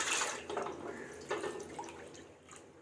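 Measured water splashes and drips into a large cooking pot while making wheat chik papad, a close, continuous pouring sound with a few louder spills and no voices.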